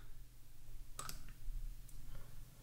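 A computer mouse clicked to open a right-click menu, with a couple of quick, sharp clicks close together near the middle over a faint quiet background.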